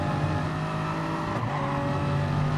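A race car engine drones and revs in a sim racing game at Bathurst, a steady buzzing tone with a brief shift midway, heard alone without voices.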